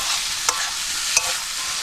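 Food fries in a pan with tomato at a campsite, a soft continuous sizzle broken by two sharp scraping stirs of a utensil against the pan, with nobody speaking.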